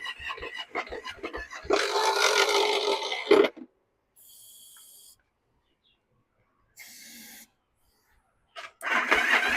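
A 1984 Yamaha Virago motorcycle's electric starter cranks the engine in a loud, strained burst of about two seconds, followed by two short, fainter whirring attempts separated by silence.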